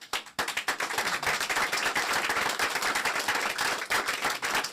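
Audience clapping for the mayor at a speech on the American Dream & Promise Act, loud dense applause of many hands that starts abruptly and continues steadily, close and without talk.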